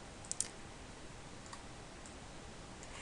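Two quick, faint mouse clicks close together near the start, a double click on a computer mouse, then only quiet room hiss.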